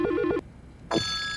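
Telephone in the video game Silent Hill Shattered Memories gives two short electronic ring bursts separated by a brief pause, loud and clear with no voices.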